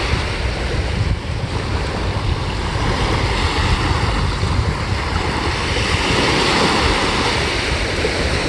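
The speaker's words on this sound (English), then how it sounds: "Enjoying the sounds of the ocean." Steady surf rolling onto Ocean View Beach on Chesapeake Bay in Norfolk, Virginia, a continuous broadband wash with heavy wind buffeting the microphone and no distinct breaks.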